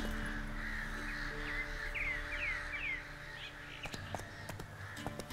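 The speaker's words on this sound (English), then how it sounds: "what's with all the low-flying flocks of creatures? Creatures? Murder of crows, Tim, flying around with ravens." Crows caw repeatedly in The Witcher 3 video game, a run of harsh calls over steady game ambience, joined by a few sharp clicks near the end.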